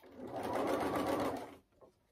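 A sewing machine runs steadily for about a second and a half, backstitching over a small fold of fabric on an eye pillow, then stops. A brief faint sound follows.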